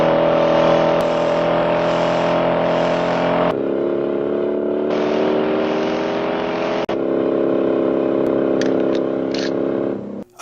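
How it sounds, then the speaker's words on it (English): Car engines from the Bullitt chase scene roar and rev loudly and steadily, with the pitch shifting as the cars accelerate and pass, broken by a brief cut and a second surge of revving. "in Bullet, there's a big car chase"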